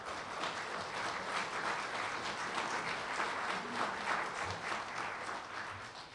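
An audience applauds steadily at the close of the 2015 Oak Island town council candidate forum, with dense, sustained clapping from a room full of people that holds an even level for several seconds.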